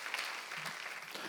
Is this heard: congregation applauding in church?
yes